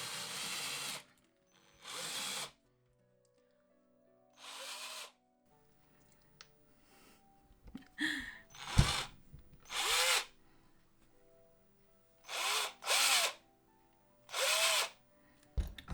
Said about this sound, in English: that's drilled the hole in and took all the parts off